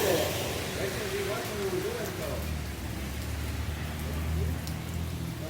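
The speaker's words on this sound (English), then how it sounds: "Rain." Steady rain falls in Florida, giving a dense, even hiss throughout. Low traffic or engine rumble sits underneath, and brief voices come through faintly.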